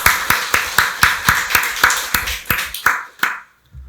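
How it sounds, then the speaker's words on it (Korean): Church congregation at a Sunday worship service clapping in unison, about a dozen loud, evenly spaced claps with a slight slowing toward the end before dying into silence. "박수로 하나님께 영광 돌리겠습니다"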